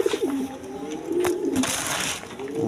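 Close, steady cooing from a pair of pigeons in a loft, the rolling coos repeating without pause while someone talks over them.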